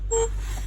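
A short electronic beep from a dual-lens Yoosee security camera on connecting, a single clear tone lasting a fraction of a second over a low steady hum.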